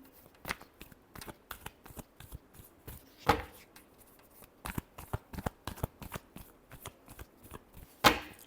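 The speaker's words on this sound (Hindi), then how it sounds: "Last shuffle." Tarot cards riffled and shuffled by hand in a quick irregular series of crisp slaps and flutters, close and fairly loud, with sharper snaps standing out at a couple of points.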